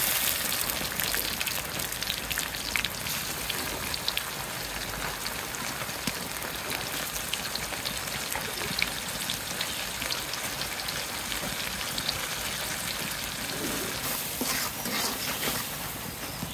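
Spices cook with browned onions in a pan for a pangas fish curry with bottle gourd, producing a steady, close crackling sizzle like light rain with scattered sharper pops throughout and no speech.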